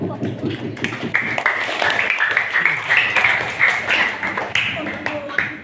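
Students in a classroom clapping their hands during a lesson on a Quran surah, rhythmic patterned claps mixed with lively children's voices.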